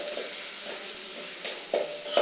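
A garlic and ginger mixture sizzles and fries steadily in a pan while being stirred, a soft continuous hiss with a few faint scraping clinks, fairly quiet and close.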